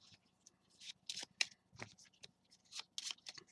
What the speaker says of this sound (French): les spectateurs vont mélanger chacun leur paquet